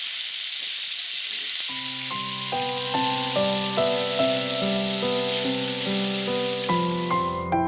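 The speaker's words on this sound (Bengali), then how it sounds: "এরপর কেটে রাখা এঁচড়গুলো একটু ভেজে নেব।" Chopped green jackfruit fries in oil in a wok, giving a steady, close hiss of sizzling that runs the whole time, with a melodic music track entering partway through.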